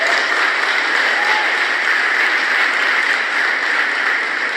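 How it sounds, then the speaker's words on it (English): Dense, steady applause from a large graduation ceremony crowd at a university, a continuous even roar of clapping at a fairly loud level with no voices on top. "I think they deserve another round of applause."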